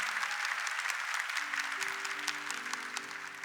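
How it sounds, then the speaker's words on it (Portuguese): A church congregation applauds, a dense, even clatter of many hands at moderate volume that keeps going throughout, with a sustained musical tone rising underneath partway through. "Vamos aplaudir essa graça,"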